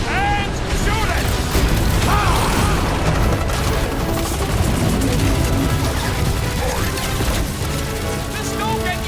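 Rapid gunfire aimed at a dragon in the Guardians of the Galaxy game, dense and continuous, blending into a loud, busy battle din with roars, crashes and voices talking over it.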